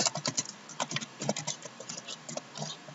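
Quick, uneven tapping of keys on a computer keyboard while code is typed, close and crisp clicks in short bursts with brief pauses, no speech.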